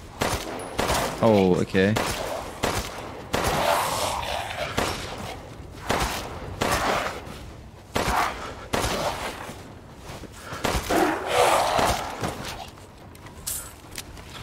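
Rapid gunfire in Resident Evil Village, with repeated close shots, some in quick bursts, spread across the whole stretch, and a brief spoken remark in between.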